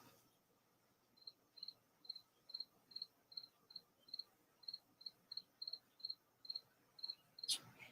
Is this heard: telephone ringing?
no